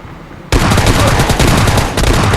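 Loud, dense bursts of rapid gunfire in a battle royale video game, a sustained fusillade with a brief dip near the end before the firing resumes, no voices.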